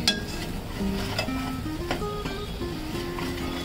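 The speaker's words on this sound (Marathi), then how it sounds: "हे पण 1 मिनिटभर आपण मसाल्याबरोबर छान फ्राय करून घेऊया" Masala frying in oil in a pan while being stirred: a steady close sizzle with spoon scrapes and light clinks against the metal throughout.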